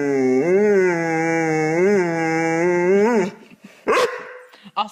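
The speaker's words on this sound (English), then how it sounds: "Don't bark at me." A dog gives a long, drawn-out vocal howl-like bark with rising and falling pitch, loud and close, followed by a few short sharp yips and sounds after it breaks off.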